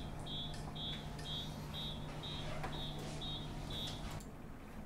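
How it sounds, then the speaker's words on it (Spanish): Industrial control alarms go off after a PLC halts in a water temperature monitoring setup, a faint, high electronic beep pulsing evenly about twice a second over a steady low hum, then stopping. "las alarmas empiezan a sonar."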